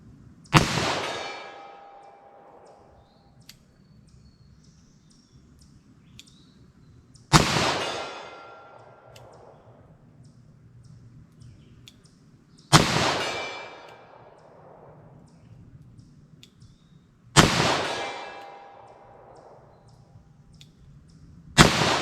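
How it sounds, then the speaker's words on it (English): Four loud, sharp .38 Special +P revolver shots fired slowly at a 75-yard target, each spaced about five seconds apart with a ringing, decaying tail, close and outdoors with no talking. "So I'm gonna fire really, really slow and try to hit as many as possible here."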